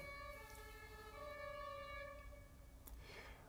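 A distant emergency vehicle siren holds steady wailing tones, faint and far off, with a couple of brief clicks but no speech.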